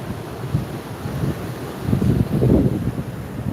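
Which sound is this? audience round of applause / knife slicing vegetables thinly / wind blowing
wind blowing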